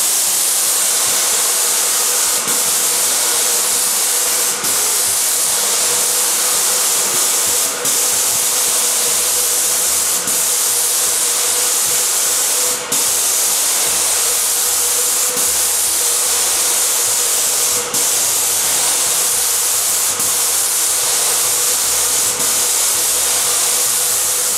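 An airless paint sprayer coats new plasterboard walls indoors, giving a loud, steady broadband hiss throughout, with brief clicks where the spray stops and restarts every few seconds.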